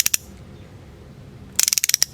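A ratchet driver from Felo clicking, first a quick pair of sharp clicks, then a pause, then a rapid run of about ten crisp, close clicks.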